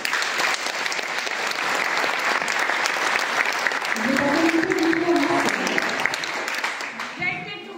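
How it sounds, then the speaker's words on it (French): Applause fills a private screening room where an audience is watching a film, a dense, loud wash of clapping that swells and holds steady before easing, with a few voices calling out near the end. "donc il faut les applaudir"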